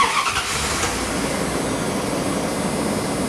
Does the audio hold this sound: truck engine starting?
yes